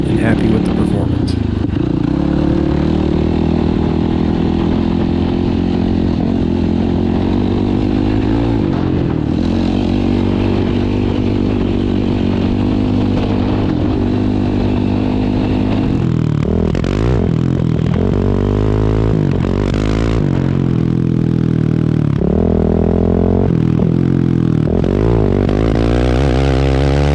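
A 2021 Yamaha YFZ450R quad with an HMF performance exhaust and fuel optimizer revs steadily toward half throttle on a small motocross track, a loud, close, continuous engine drone with a few rising surges near the end, while someone talks over it throughout.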